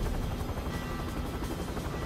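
A helicopter in Call of Duty: Warzone thrums with a steady, dense rotor roar, continuous and fairly close, with no speech over it.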